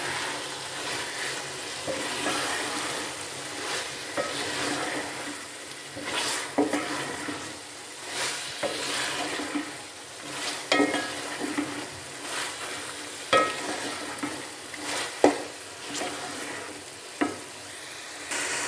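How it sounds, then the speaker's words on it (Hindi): Chicken pieces frying and being stirred in a spiced masala for a chicken and bitter gourd curry, with steady sizzling and repeated scraping of a spoon against the pan, close and loud, with no talking. "अब इसमें हम चिकन डाल लेंगे। इसको भी हम भून लेंगे अच्छे से।"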